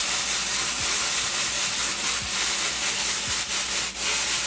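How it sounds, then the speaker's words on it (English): Potatoes, onion, yellow pepper and mushrooms sauté in a pan on a home stove, giving a steady, close, broadband sizzle and hiss with a few faint scraping clicks throughout. "So I'm gonna saute this."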